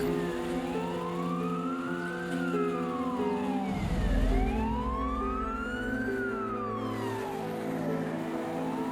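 An emergency vehicle's wailing siren sweeps up and down in long cycles as it drives past, loud and close with engine and road rumble beneath it, with no voices.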